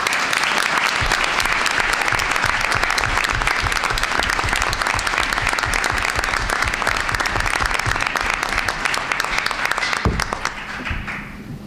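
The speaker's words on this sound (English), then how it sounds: "So please give a round of applause for Adam LaBelle McLean." A room of attendees at a school board of education meeting gives a sustained round of applause, dense and steady for several seconds before tapering off at the end.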